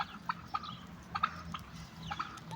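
Turkeys kept for sale give a handful of short, quiet clucking and gobbling calls in uneven bursts against a low background hum, with no talking.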